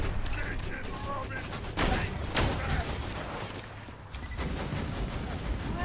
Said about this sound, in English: There are two guys right here, so I'm just going to put the rocket over both of them twice.